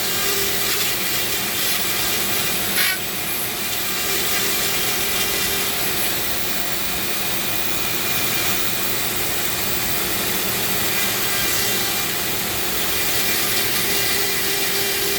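Dremel rotary burr carving a wooden rattlesnake, a continuous close high-pitched motor whine with rasping grinding as the burr cuts the wood, steady and without talk.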